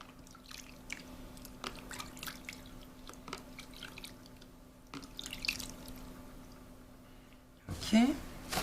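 Oil and cream being rinsed off skin in a shower, with close dripping and splashing water, soft squishes, and a louder burst of running water near the end.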